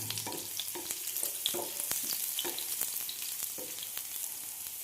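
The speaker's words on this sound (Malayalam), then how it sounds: "ചൂടായി ഇനി ഇതിലേക്ക് വെളുത്തുള്ളി ചേർത്ത് കൊടുക്കാം." Finely chopped garlic and ginger fry in hot oil with a soft, steady sizzle at close range, broken by light stirring scrapes.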